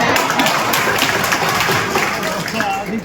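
A class at a Hindi literature coaching session breaks into a burst of hand clapping, dense and continuous, filling the room at a steady level with a scattering of sharper claps.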